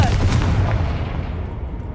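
A Confringo fire spell blast in Hogwarts Legacy, a loud booming burst with a rumbling low tail that fades over about two seconds, standing alone without talk.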